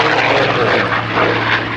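Loud, steady drone of an aerobatic propeller airplane performing figure-eight loops at a 2012 airshow, the engine note rising and falling slightly as it passes overhead, with no talk.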